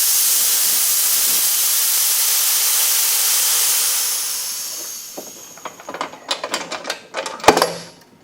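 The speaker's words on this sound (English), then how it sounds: "so we're ready to let off the pressure" A pressure pot used for casting Alumilite White resin pen blanks vents its air pressure in a loud, steady hiss that fades after a few seconds, followed by softer clicks and mechanical rattles as the pot is opened.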